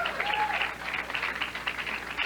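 Spectators at a 1998 PBA Brunswick Circuit Pro Bowling Classic tournament break into sustained applause for a bowler, a steady wash of clapping with some crowd noise.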